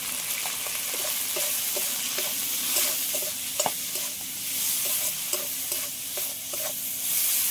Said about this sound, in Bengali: সবগুলো একসাথে একটু ভালো করে ভেজে নেবো আগে।